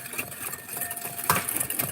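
Cornbread batter of eggs and flour is stirred by hand in a heavy bowl, giving a close, rhythmic scraping and tapping that repeats in quick, uneven strokes with no talk over it.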